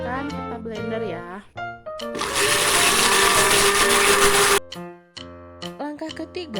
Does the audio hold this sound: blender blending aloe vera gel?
yes